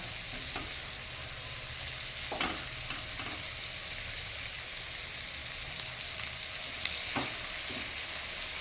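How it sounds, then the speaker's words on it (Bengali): Prawns frying in a pan over a high flame for a spicy Bengali prawn curry, a steady dense sizzle close up, broken by a few light scraping stirs. "ফ্লেমটা এখন আমি হাইয়েতে করেছি। তবে চিংড়ি মাছটা থেকে যা জল বেরোবার বেরিয়ে গেছে, এখন শুধু ভেজে নেওয়ার পালা।"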